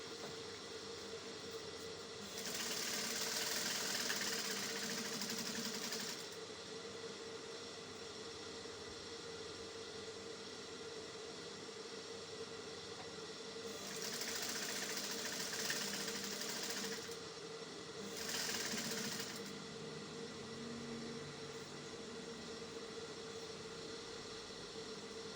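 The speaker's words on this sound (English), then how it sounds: "I'll go ahead to sew down using half of an inch sewing allowance." A sewing machine stitches a dress seam in three separate runs: a soft steady motor hum and needle patter that starts and stops, with quiet room noise between the bursts.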